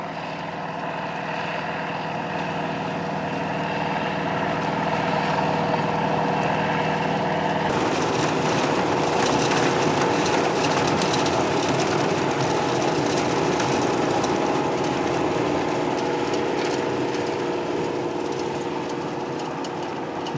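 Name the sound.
1994 Riecam RBM 300 sugar beet harvester running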